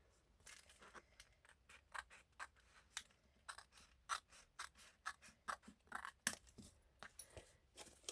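Scissors snip paper for a handmade mini envelope journal, giving a quick run of close, crisp cuts in an uneven rhythm that grows steadier toward the end, with no talking.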